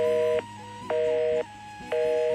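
A telephone line returns a busy signal: a steady electronic tone pulsing on and off in even beats, three loud tones separated by short gaps.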